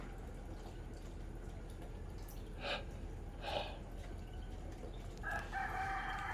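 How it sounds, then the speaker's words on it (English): Distant roosters crow several times, faint calls rising over a steady outdoor background hum. "I can hear the roosters just going on and on and on."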